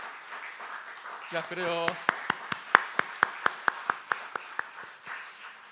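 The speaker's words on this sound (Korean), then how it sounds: "자, 크게 박수 격려해 주시기 바랍니다." Church congregation in a Korean Presbyterian retirement and completion service clapping in encouragement, a quick burst of hand claps that settles into a slow, even rhythm of single loud claps, with someone speaking briefly at the start.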